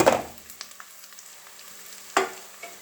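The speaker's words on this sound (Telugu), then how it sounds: "ఇప్పుడు మనం దీంట్లో పచ్చి కొబ్బరి తురుము వేసుకుంటున్నాము" Grated fresh coconut and peanuts in a pan give a soft, steady sizzle with occasional scrapes and light clinks of stirring, quiet and close with no voices.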